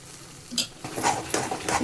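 A spoon stirs a pot of boiling pineapple and fresh grated coconut filling for holige, giving a few soft scraping strokes at an uneven pace.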